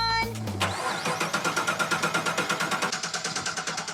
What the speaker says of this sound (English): Although it was slow to start, the 2013 is off and most definitely running.